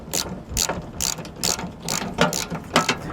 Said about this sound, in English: And now we can go ahead and start taking off the last two bolts.